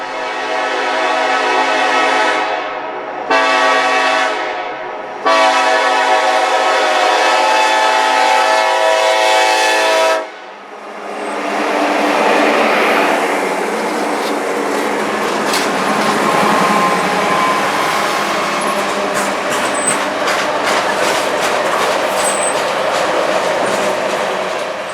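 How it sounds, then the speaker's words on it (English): Norfolk Southern 153, an auto-rack freight train, passes close and loud. Its horn sounds in several long blasts, then heavy rumbling and rhythmic clickety-clack of the cars rolling by continue to the end. "Norfolk Southern 153 comes blasting through with the K5LLA and a nice surprise in the lash-off"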